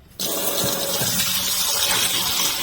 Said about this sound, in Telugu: ఇప్పుడు ఈ రొయ్యలు ఈ పాత్రలో వేసానండి. ఇవి బాగా శుభ్రంగా కడగాలి.